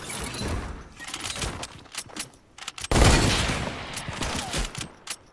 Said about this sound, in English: I'm getting shot by 2 kids, dude.